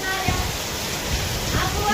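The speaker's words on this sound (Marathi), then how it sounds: "असा पाऊस चालला आहे भरपूर पाऊस चालला आहे" Heavy monsoon rain pours down over a village in a dense, continuous hiss, steady and fairly loud throughout, while a voice talks over it.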